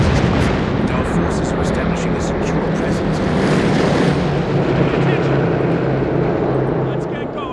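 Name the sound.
artillery strike in the video game Company of Heroes 3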